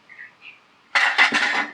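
A lid lifts off a cooking pot of prawns with jackfruit, a couple of faint metallic taps followed by a loud, ringing clatter of metal.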